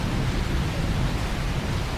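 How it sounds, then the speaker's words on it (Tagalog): Steady, dense roar of heavy rain with thunder and lightning in Bugallon, Pangasinan, Philippines, a continuous broadband wash with a low rumble of distant thunder underneath. "Ang lakas ng ulan, kung naririnig nyo po yung kulog at kidlat."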